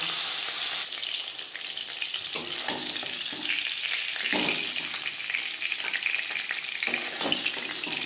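Rohu fish pieces crackling and sizzling in a pan, with occasional sharp spatters and light utensil scrapes over a constant frying hiss; no talk.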